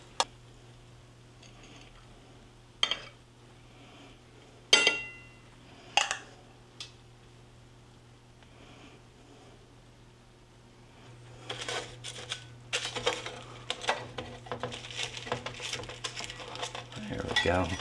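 Baked tilapia and rice pilaf are plated. Sparse, sharp clinks of utensils against a plate come first, then give way to denser scraping and clattering toward the end, all close and fairly quiet.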